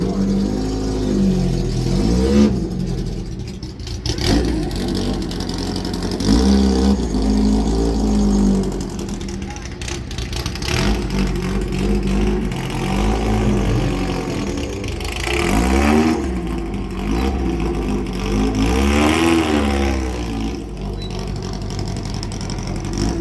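A truck engine nearby revs up and down in repeated swells over a low rumbling idle, with a voice heard briefly between the revs.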